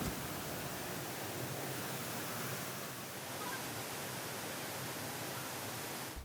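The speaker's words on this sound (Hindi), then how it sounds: "और ये है यहाँ का वाटरफॉल" The waterfall in Hong Kong Park roars as a dense, constant broadband rush of falling water, close and loud, unchanging throughout.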